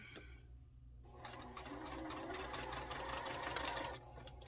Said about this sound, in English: This sewing machine's not too bad about it